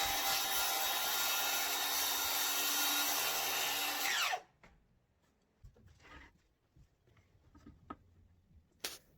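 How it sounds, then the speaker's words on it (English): A power saw cuts the shoulder of a half lap joint in wooden exterior window trim, a loud steady whine for about four seconds that stops abruptly, followed by quieter knocks and handling noises. "Here I'm just cutting where the shoulder is on the half lap and flipping it around and"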